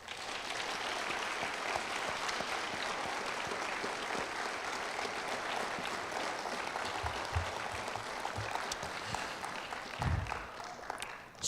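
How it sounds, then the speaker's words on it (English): A seated audience gives sustained applause for hall of fame inductees at a 2023 induction ceremony, a continuous wash of clapping that stays even throughout, with a few low thumps near the end. "Ladies and gentlemen, please join me in one final round of applause for all of our inductees."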